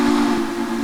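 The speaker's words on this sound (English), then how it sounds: "That is a good sounding whistle." Whistle of a Texas & Pacific 2-8-2 steam locomotive in the Trainz 2019 train game, one loud, steady chime tone held throughout with a breathy hiss layered over it, no voices.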